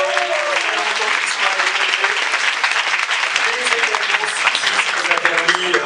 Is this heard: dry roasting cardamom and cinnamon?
no